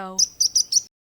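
Sparrow chirping: four quick, bright, high tweets in an even rhythm, clear and close, following a short low tone.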